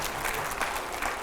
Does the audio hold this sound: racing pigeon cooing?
no